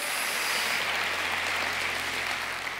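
Church congregation applauding the Lord during a baptism sermon, a steady, dense wash of clapping that holds evenly throughout at moderate level with no distinct gaps.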